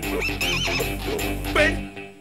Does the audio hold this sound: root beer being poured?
no